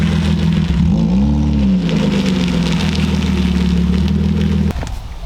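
A BMW E36 325is engine runs rough and close, with a brief rising rev and a wavering, uneven idle that nearly stalls, then dips as the tone drops at the end.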